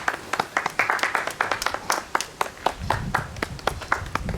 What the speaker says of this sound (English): Clap for Captain Tom now, innit?